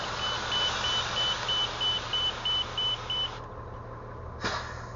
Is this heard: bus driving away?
yes